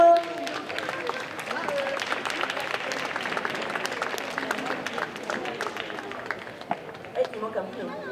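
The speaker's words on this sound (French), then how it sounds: "Tous ceux qui sont encore là, on les applaudit une dernière fois," Audience at a cosplay contest prize ceremony at a Japan manga convention in Strasbourg applauding the participants on stage, sustained crowd clapping with cheers and voices mixed in, fairly loud and even.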